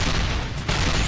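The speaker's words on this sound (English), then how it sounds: "these cannon fires seriously have to be killing you" Cannon fire in the Assault Gunner video game pounds out as a dense, loud, continuous barrage with a short dip in the middle, with no voices.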